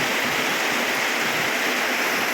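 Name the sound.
rushing floodwater from heavy rain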